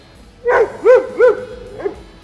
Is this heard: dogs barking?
yes